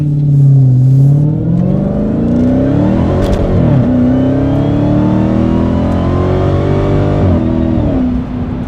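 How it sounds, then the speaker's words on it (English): Dodge Challenger engine roars loudly through an MBRP 3-inch cat-back quad rear exit street profile exhaust, rising in pitch as it accelerates hard, steady and close for several seconds. "this is an aggressive exhaust, and this is our MBRP street version"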